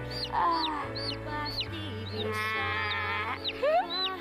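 Small chicken clucking and peeping in short, repeated high chirps over a low steady hum, close and moderately loud, with no speech.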